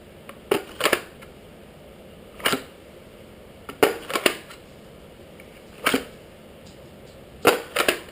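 A revolver is drawn from and pushed back into a custom Kydex holster for a .375 Python, giving about six sharp plastic clicks and scrapes spaced a second or two apart, close and distinct against a quiet room.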